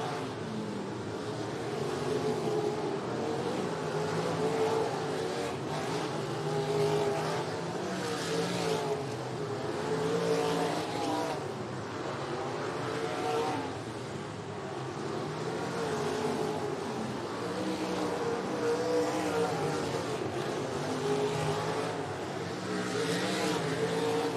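Race cars lap the Jacksonville Speedway track, a steady wash of engine drone from a distance with surges as cars come around the back stretch, no talk over it.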